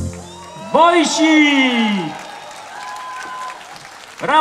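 Audience applause for the performers of the Polish group Zespół Wojsi at a live show, a steady wash of clapping under a loud, drawn-out shouted voice early on, with more voices breaking in at the end.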